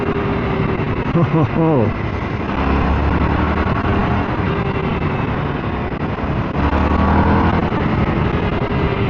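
An EBR Buell 1190SX V-twin sportbike engine runs loud and close, its pitch sweeping as it shifts into second gear, under heavy wind noise and a rider's brief voice.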